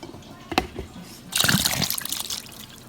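Liquid from canned fruit cocktail drains into a container for sweet macaroni salad, starting with a brief clink and then a close trickling, splashing pour that lasts a couple of seconds.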